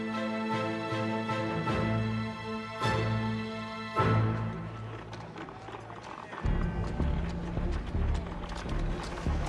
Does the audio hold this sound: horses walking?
yes